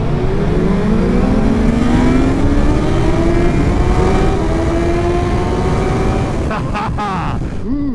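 A BMW S1000 XR or Suzuki GSX-S1000 GX sport-touring motorcycle accelerates hard, its loud engine note climbing steadily in pitch for several seconds, then briefly cutting and stuttering as wheelie control intervenes near the end.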